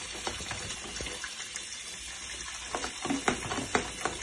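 A young child washing a mug and dishes with a brush under a running kitchen tap, water splashing and trickling steadily with a few clinks toward the end, fairly quiet.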